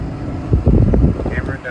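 A Ford turbo pickup truck, around a 650 to 750 horsepower street build, accelerating hard at full throttle, heard as a loud, sustained engine roar with rising tones and wind buffeting on the microphone, close and continuous.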